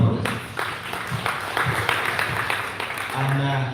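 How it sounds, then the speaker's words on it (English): A crowd at a World Kidney Day celebration in a hotel in Hoima, Uganda, claps steadily in a broad patter of applause, with a voice speaking over it near the end. "May we give him a better round of applause?"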